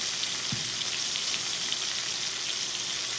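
A spice-rubbed steak pan-sears in a frying pan, giving a dense, even sizzle like steady rain on a hot surface, close and constant with a small thud early on, no voices.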